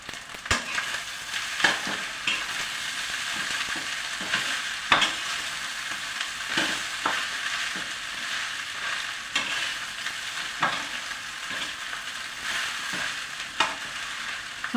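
Masala khichdi stirred and fried over a high flame, a steady close sizzle broken by repeated scraping spoon strokes at an irregular rhythm, with no talking.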